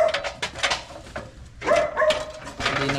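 A dog barks in short, repeated bursts with whimpering yips between them. It sounds close and loud, and the barking keeps going through the few seconds.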